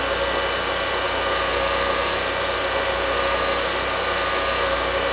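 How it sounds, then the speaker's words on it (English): A grinder shaping a pritchel runs at a steady, close, loud whine, with a thick layer of hiss and a constant hum. No one speaks. "Really should wait for the grinder to wind up."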